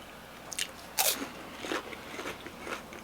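Crunchy fried Panda Express food is bitten and chewed up close, with a few sharp crisp crunches followed by softer, irregular chewing sounds in otherwise quiet surroundings.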